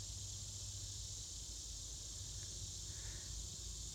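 Southern Magicicada cicada chorus in summer, a steady high-pitched buzzing drone that holds evenly throughout, with a faint low rumble beneath and no voices.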